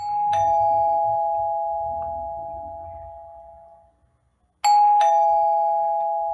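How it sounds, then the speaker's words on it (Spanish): A doorbell in a radio drama sound effect gives two clear, loud two-tone ding-dong chimes, each ringing out and slowly decaying, with a short silent gap between them. "sonó el timbre de la puerta"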